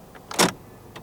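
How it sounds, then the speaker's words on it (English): Central locking actuator firing on a 2015 Honda Accord 2.0 VTi, heard inside the cabin as one short, solid mechanical thunk, with a faint click just before it and another near the end, and no talk. "Central locking."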